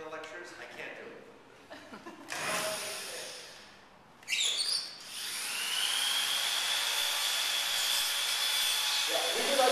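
A power tool carves bonsai wood at a jigsaw bonsai workshop, first as scattered rasping bursts, then as a loud, steady whine with grinding.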